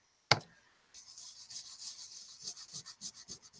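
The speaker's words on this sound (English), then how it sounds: "I'm just rubbing that into the double stick here." Antique gold finish rubbed onto a surface by hand, a sharp tap followed by a run of close, rhythmic rubbing strokes that grow steadier, quiet and with no talking.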